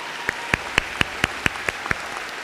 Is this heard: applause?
yes